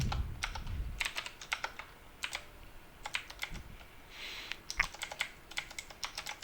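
Quick bursts of keystrokes on a computer keyboard as HTML image tags are typed for a Bootstrap web page, crisp and close with short pauses between runs, no voices.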